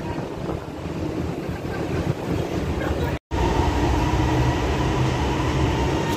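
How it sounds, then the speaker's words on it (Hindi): A train pulls into a station, giving a steady, loud rumbling roar with wind buffeting close to the microphone. The noise continues throughout, with one very brief dropout near the middle. "ट्रेन आ गई है, हम बैठने लगे हैं यहाँ।"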